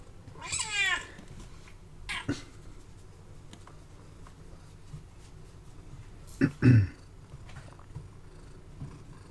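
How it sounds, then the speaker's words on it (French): A short cat meow near the start, then quiet purring under soft rustling and a couple of louder thumps. "c'est mon chat qui veut des câlins"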